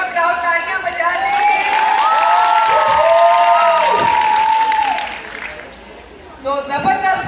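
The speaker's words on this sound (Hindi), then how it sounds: "एकदम क्राउड तालियां बजा दे" A crowd at a one-day makeup class with a makeup artist claps and cheers loudly for about five seconds, with whoops and voices riding over the applause before it fades and talk resumes.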